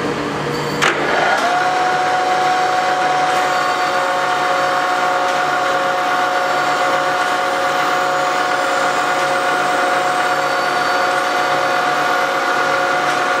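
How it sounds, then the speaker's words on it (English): A chop saw cutting wood starts with a sharp knock, then holds a steady, loud motor whine with gritty cutting noise for the rest of the stretch. No one speaks. "just splitting again on the chop saw"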